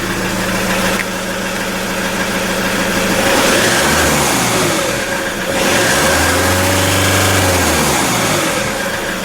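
A RAM ProMaster 3.0L engine in limp home mode with low power runs close and loud, idling steadily, then rising in two revving swells before settling back, with no talk.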